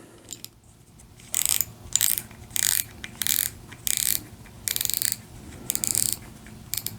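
A spool being tightened back onto an ice fishing reel, giving bursts of rapid ratcheting clicks, about eight short runs separated by brief pauses, close and fairly loud with no voices.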